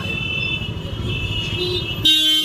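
Car horns honk in a rain-soaked traffic jam on Mall Road in Nainital, a steady traffic rumble broken by a sharp, loud toot near the end.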